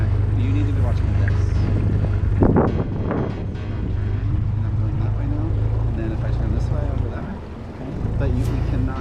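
Outboard engine of an inflatable dinghy on the water, a steady low drone with wind buffeting the microphone, running under nearby talk.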